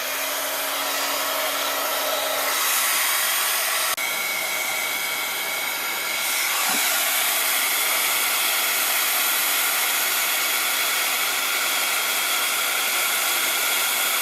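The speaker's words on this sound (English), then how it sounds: "Go ahead and dry that with your heat tool." A heat tool drying pearlescent watercolor paint blows a steady, loud, close airy roar and hiss that runs the whole time, with small shifts in pitch as it moves.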